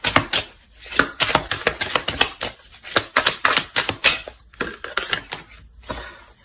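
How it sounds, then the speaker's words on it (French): A deck of playing cards being shuffled by hand makes rapid, crisp snapping clicks that come in uneven bursts with short pauses between them, close and clear, with no talking. "Et je mélange le jeu."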